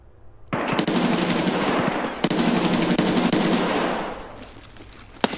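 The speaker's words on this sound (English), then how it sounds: "No, I was shooting down the hallway." Video game gunfire in a hallway fight: loud, sustained automatic weapon bursts fired in rapid succession, close and continuous, with a sharp isolated shot near the end.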